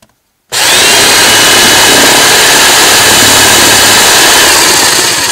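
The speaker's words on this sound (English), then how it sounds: "Time to drill." A power drill starts abruptly after a brief silence and runs loud and steady, a continuous whining grind biting into wood, very close.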